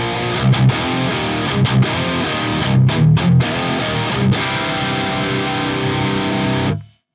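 Distorted electric guitar through an FAS AX8 modeler's 5153 amp model with the presence control turned down, playing chunky palm-muted riffs with brief gaps, then a long ringing chord that fades out.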